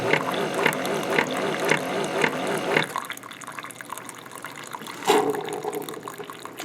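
A Keurig K425/K475 coffee maker trickles and drips liquid into a cup with a bubbling, gurgling brew sound that stops partway through, followed by quieter drips and a brief clunk while people talk.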